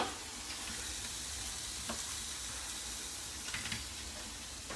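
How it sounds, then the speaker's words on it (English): Prawns fry in a pan with a soft, even sizzle heard up close, broken by a few light clacks and stirring scrapes. "Now I'm going to throw the prawns in as well."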